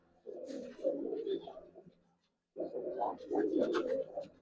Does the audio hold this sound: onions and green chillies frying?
no